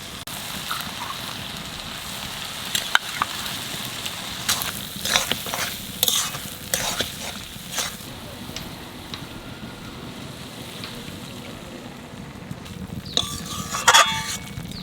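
Poppy seed paste being stirred and fried with ridge gourd and potato in a pan, a steady low sizzle throughout with scattered scraping clicks of the spatula, fairly close and even.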